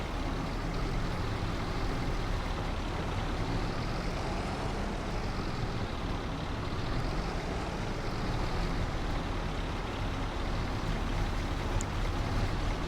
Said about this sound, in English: we'll just keep the engine running